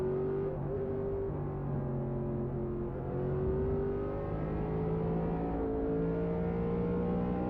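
Steady high-revving NASCAR race car engine in a video game droning continuously, with pitch rising and shifting as it accelerates through gears on a road course, close and loud throughout.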